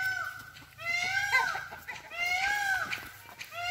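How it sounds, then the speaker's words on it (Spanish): A peacock on a countryside farm among cows and goats gives loud, repeated harsh calls with rising and falling pitch in close succession, over faint background voices and farmyard noise. "Sí, es un pavo real bien lindo. Pero cántame."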